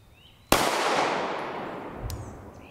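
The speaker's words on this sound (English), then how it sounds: "We'll shoot these out of the Glock 19 with the MOS." A single sharp Glock 19 pistol shot fired at a ballistic helmet cracks loudly, its echo decaying slowly across an open range, with a faint second report following.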